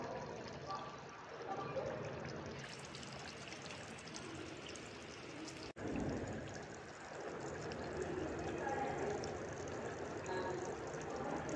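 Hot water pours steadily into a pot of Odia-style mutton curry, a continuous splashing, gurgling stream that runs on with a brief break midway, fairly close and steady.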